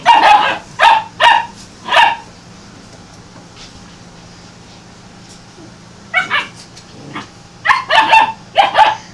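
Several seven-week-old puppies yip and bark in short bursts while play-fighting, with a quiet pause in the middle before more playful barking resumes, close by.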